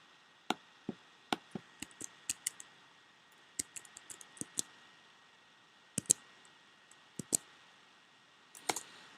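Someone types a password on a computer keyboard in a quiet room, sharp isolated key clicks coming in uneven bursts and pauses, close and fairly soft.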